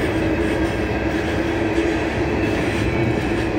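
Empty coal freight train led by locomotives 4205 and 1084 rumbling past close by, a steady loud roar of wheels and rail noise throughout with a faint constant tonal whine.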